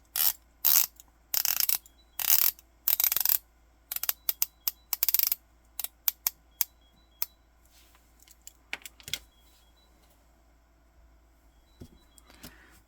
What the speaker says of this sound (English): The Borealis is 120 click unidirectional, so it's just a die bezel with a GMT bezel insert, so I cannot rotate it clockwise, but I can rotate it counterclockwise.